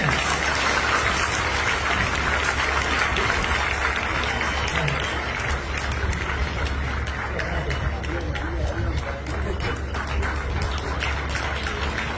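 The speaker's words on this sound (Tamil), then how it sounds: "கைதட்டு அந்த பிள்ளைக்கு" A lecture audience claps steadily for a child, producing a dense, continuous patter of applause close by, with a low constant hum and faint babble underneath.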